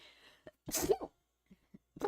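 A single sharp sneeze bursts out close up after a short inhale, followed by quiet and a few faint small sounds.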